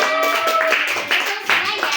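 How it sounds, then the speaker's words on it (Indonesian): A fifth-grade classroom of children claps together in a quick burst of rapid, overlapping applause, with voices mixed into the clapping. "tepuk tangan buat kelompok gajah"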